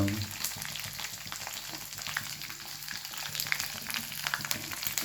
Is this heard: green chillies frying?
yes